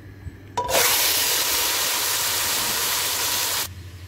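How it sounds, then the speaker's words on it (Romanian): Veal hits hot oil and a steady, loud sizzle hisses for about three seconds, then cuts off abruptly. "am pus 70 de mililitri de ulei, care punem carnea să o călim."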